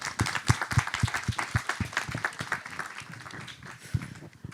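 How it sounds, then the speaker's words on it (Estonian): An audience claps together, a lively patter of many hands from a mid-sized crowd that gradually thins out toward the end. "teeme enne aplausi kõikidele, kes siin laval olid"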